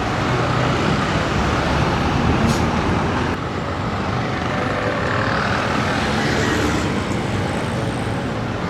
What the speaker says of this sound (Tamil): அதில் தெரியுது பாருங்கள், புது பஸ் ஸ்டாண்ட்,